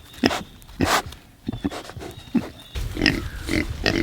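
Kune Kune pigs grunting and snuffling while eating watermelon rinds, a run of short, close, uneven grunts with chewing noises between them.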